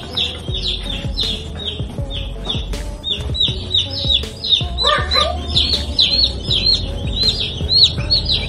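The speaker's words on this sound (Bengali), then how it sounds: "পুরো বাসায় দেখেন অনেকগুলো মুরগির বাচ্চা" Many young chicken chicks peep continuously indoors in a house kitchen, their high, rapid chirps overlapping close by, with some deeper clucking and soft knocks underneath.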